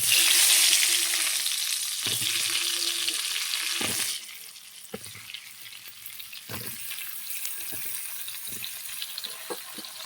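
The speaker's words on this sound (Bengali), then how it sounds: "ওই আলু ভাজার তেলে আমি পটলটা দিয়ে দেবো।" Pointed gourd fries in oil left over from frying potatoes, giving a continuous sizzle with scattered scraping stir strokes, loud at first and then settling to a steadier hiss.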